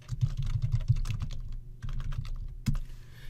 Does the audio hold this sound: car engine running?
no